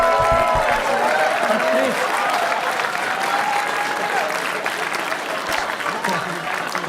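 A television studio audience gives a long round of applause during a Canadian political interview broadcast, a dense, steady wash of clapping that holds for the full stretch with a faint voice underneath.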